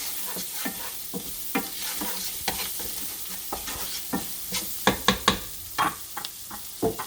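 Spices frying in a hot pan while being stirred, a continuous sizzle broken by repeated scraping and knocking strokes of the spoon against the pan, close and fairly loud.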